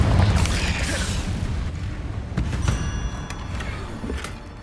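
A Confringo fire spell blast in the game Hogwarts Legacy, a loud booming burst at the start that rumbles and decays, followed by softer crackling magical effects and a thin ringing tone.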